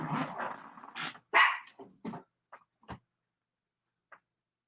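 A dog barks several times in short bursts during a televised Tottenham v Manchester City football match, with the sharp barks clustered early and then spaced out, a few faint yelps trailing off near the end.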